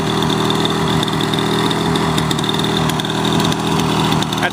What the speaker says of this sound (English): Bring it back down to low speed here. So there's low speed setting right there. It's idling okay.